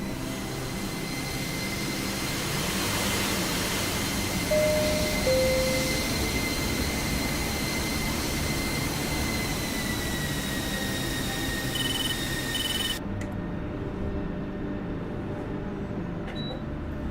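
An F-16 jet engine in a flight combat video game gives a steady, loud, continuous roar with high whining tones that holds for the whole stretch.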